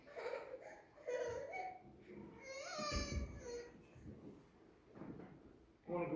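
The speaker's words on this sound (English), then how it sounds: "that's the most beautiful sound in the church today is that child crying here" A young child cries and babbles during a church service, faint and distant in the room's echo, in rising wailing bursts among scattered shuffling noises.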